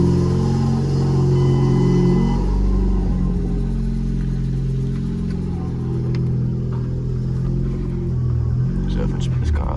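Volvo C30 with a straight-piped exhaust and the catalytic converter removed, idling close with a loud, deep droning rumble throughout, someone talking over it.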